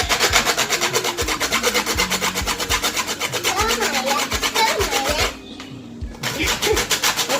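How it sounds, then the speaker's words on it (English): Nutmeg is grated in fast rhythmic rasping strokes, a dense close scraping that pauses briefly before resuming, with faint voices in the background. "I'm gonna grate the nutmeg"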